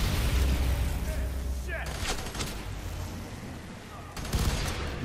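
Gunfire rattles through a firefight in the shooter game FEAR 3, with dense bursts of shots layered over a rumbling game soundscape and a louder volley near the end.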